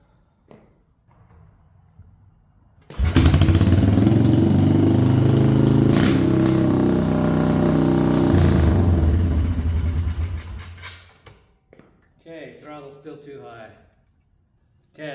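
A Royal Enfield motorcycle engine starts with the choke on and runs at a loud, steady idle for several seconds, then cuts off, with a person talking quietly before and after.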